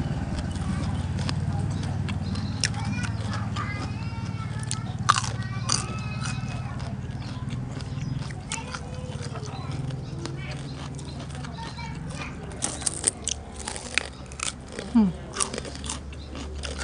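Crunchy chewing of crispy homemade pork cracklings eaten with papaya salad and fresh vegetables, close bites and crackles over a low steady background hum, growing busier toward the end.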